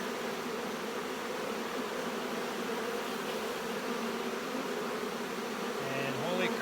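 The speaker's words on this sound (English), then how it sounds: "So we have just half a frame of bees there." A dense, steady buzzing of many bees on a hive frame fills the whole stretch, close and continuous, with a faint voice coming in near the end.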